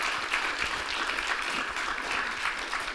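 Sustained audience applause at a joint HEC Paris and CentraleSupélec entrepreneurship conference, honoring a professor: dense, steady clapping from a large crowd that holds at an even level throughout with no break.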